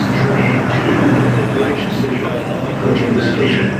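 A New York subway train at a station platform fills the space with a loud, steady rumble and rattle, while a voice speaks over the noise throughout.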